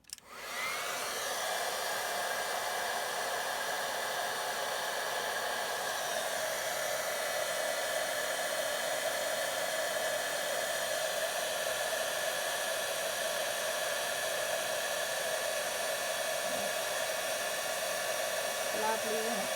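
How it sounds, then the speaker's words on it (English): Handheld heat tool blowing hot air over a die-cut stamped paper piece for heat embossing, a loud steady whooshing roar that starts abruptly and holds constant throughout. "So now I can heat emboss this"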